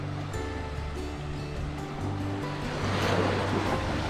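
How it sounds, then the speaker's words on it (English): Ocean waves at the far end of Cable Beach facing the Torres Strait, a steady broad wash of surf with wind noise, slowly swelling louder, with no talking. "It's the ocean, that's the Torres Strait out there, or the islands."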